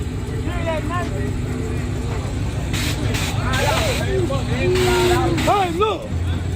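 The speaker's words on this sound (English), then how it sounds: "Hear that nitrous?" A street racing car on nitrous roars at a cash-day street race event, with a steady loud engine drone and rising whines under crowd chatter and nearby talking.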